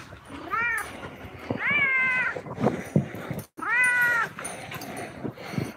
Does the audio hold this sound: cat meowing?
yes